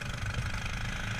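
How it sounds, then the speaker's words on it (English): Go-kart engine running steadily and close during a race, a continuous rumbling drone with a dense, buzzing texture as the driver works the throttle, no voices over it. "I'm pumping the gas right there."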